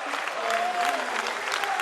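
The home crowd at a Sheffield Eagles rugby league match applauding, a dense continuous clatter of clapping from a stadium audience with a faint voice audible underneath.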